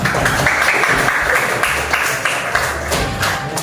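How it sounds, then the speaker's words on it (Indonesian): A classroom of primary school students claps together, steady dense applause lasting a few seconds at close range. "Ya baik, kita tepuk tangan ya untuk Dios."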